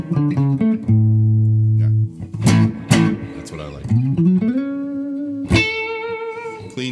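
Electric guitar on its middle humbucker pickup through an Xotic AC/RC OZ overdrive pedal plays sustained chords and bent single notes with light drive, up close and without other instruments.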